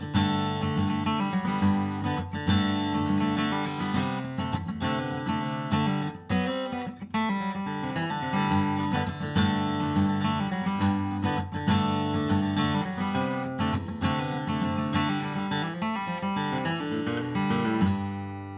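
Guitar playing a song at full tempo, dense strummed chords with little lead fills woven in, steady and loud throughout with no talking.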